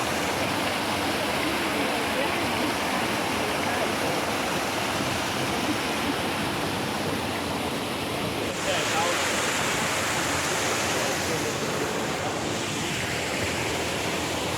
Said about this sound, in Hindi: वाटरफॉल है।